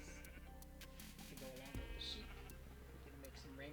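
A Minecraft sheep gives one short bleat against layered in-game music and ambient tones, fairly close and clear above the background.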